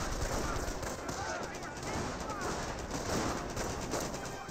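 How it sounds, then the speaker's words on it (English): Small arms fire in the real-time strategy game Company of Heroes, a dense, continuous crackle of distant rifle and machine-gun shots under a steady battlefield wash. "Engineer squad has received a small arms fire."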